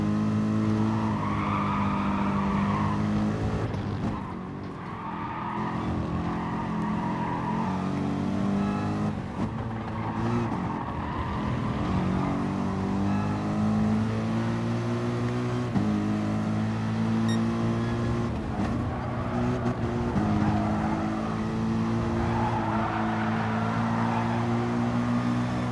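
Race car engines from a racing video game at the Maggiore circuit, a steady loud drone with revs rising and falling through gear changes and occasional tire squeal, heard alone without talk.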